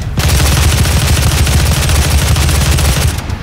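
Rapid, dense gunfire from the DOOM video game during headshot combat rattles loudly and continuously for about three seconds, then cuts off abruptly.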